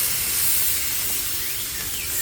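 Bacon sizzling on a Blackstone griddle, a steady dense hiss that holds evenly loud from start to finish with no talk over it.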